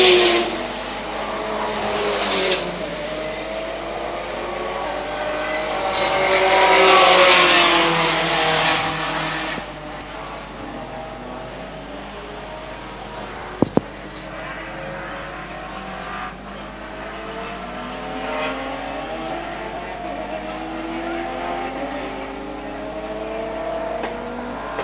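Race cars in the Mahindra North Island Endurance Series circulate a track, engines swelling loud as a pack passes near then fading into a distant rising and falling drone, with a brief click midway.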